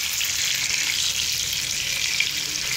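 Fish pieces fry in oil in a pan over a low flame, a dense, even, close sizzle that stays loud and steady with no pauses or talk.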